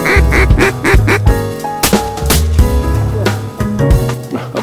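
Repeated duck quacks in quick, uneven bursts over a busy, loud background with other tones, close and prominent throughout, during a duck hunt on a pond near Astana, Kazakhstan.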